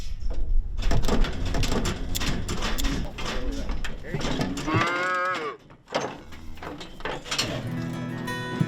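Cattle being worked by a veterinarian on a Missouri farm give loud, drawn-out moos close by, amid clanking gates and chute mechanisms, with people talking over the commotion.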